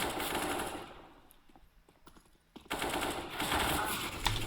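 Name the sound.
gunfire in a video game esports match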